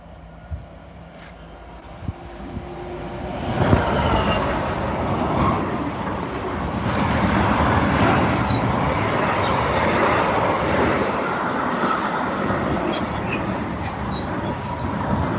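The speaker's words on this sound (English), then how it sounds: "that should be the Holyhead train that passed now, which should be 2 super voyages" A passenger train made of two coupled Super Voyager units bound for Holyhead rumbles past, rising from a distant approach into a sustained loud roar of wheels and engines that stays heavy to the end.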